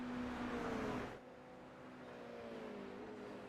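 Race car engines in a video game hum at low volume with a steady droning tone that shifts pitch as the cars pass. A louder rushing burst comes first, then the engines settle into a faint continuous whine.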